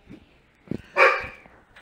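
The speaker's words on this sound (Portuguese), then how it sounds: "Porra de cachorro." A dog barks once, loud and close, with a short yelp just before, breaking an otherwise quiet room.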